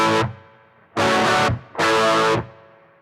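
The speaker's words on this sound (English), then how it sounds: "I think the most famous strumming pattern sounds like this." Three bursts of heavily distorted electric guitar strumming, a short one followed by two sustained chords, loud with ringing decay between them.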